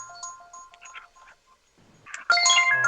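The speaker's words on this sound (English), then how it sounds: "Oh, my phone's going off." Mobile phone ringtone going off during a podcast interview: a melodic electronic tune of short repeating tones, moderately loud, then a louder burst of jingling notes near the end.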